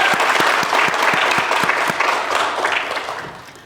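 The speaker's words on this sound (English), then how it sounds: "Can we clap it up real quick for the graduating class of 2023?" Audience applause for a graduating fire science academy class at a 2023 ceremony, a full steady clapping crowd with a few distinct close claps, tapering toward the end.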